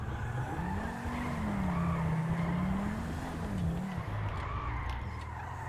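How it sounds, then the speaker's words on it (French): A car drifts while trying to park, its tires squealing in a long wavering whine that rises and falls over the engine for several seconds before fading. "on essaye de se garer en drift"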